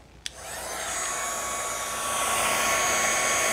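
A hair dryer blows steadily on a watercolor painting, a continuous airy roar that starts after a brief click and holds loud and even, with no voices.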